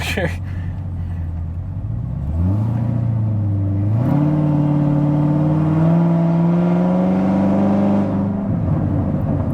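A Chevrolet Corvette ZR1 of the C6 generation on 335 tires accelerates hard with its wheels spinning, its loud close engine roar climbing in pitch through two rising pulls before cutting off, with talking over it.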